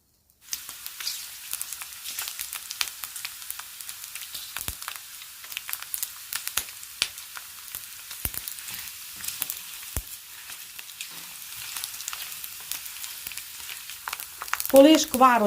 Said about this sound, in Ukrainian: І треба її файно поджарити, або ся зробили шкварочки, або солонина ся витопила і зробилися шкварочка.